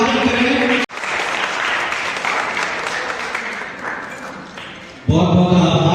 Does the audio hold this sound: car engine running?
no